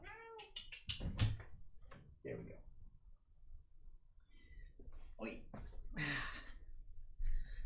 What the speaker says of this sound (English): I will let my cat out of the room real quick